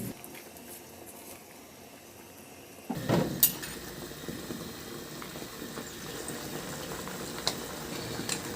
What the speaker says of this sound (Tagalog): Maglagay na ako ng tubig.